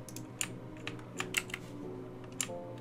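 Sparse mouse clicks in a quiet room while working with the Photoshop pen tool, several light single and double taps spaced irregularly, close and alone.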